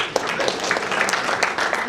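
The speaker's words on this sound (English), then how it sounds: "Clap now." An audience at an industry forum claps steadily in a hall, a dense, even patter of many hands that carries on at moderate loudness for the full two seconds.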